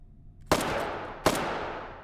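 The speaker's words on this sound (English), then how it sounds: "he did mag dump an AK" Two sharp AK rifle shots crack out in a video game, each a loud close burst followed by a long decaying echo, spaced under a second apart.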